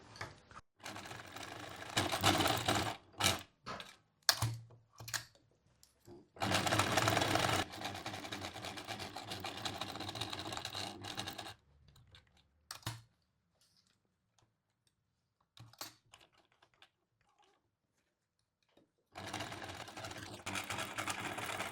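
Sewing machine stitching the inseam of linen wide-leg pants at stitch length 2.5, running in loud bursts of rapid mechanical stitching separated by pauses and near-silent gaps, with a final burst at the end.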